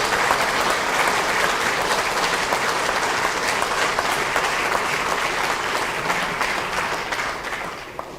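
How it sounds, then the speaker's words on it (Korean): A large political rally audience applauds a campaign speech, dense, loud clapping sustained throughout and tapering slightly near the end, with no speech over it. "다시 한번 큰 박수 한번"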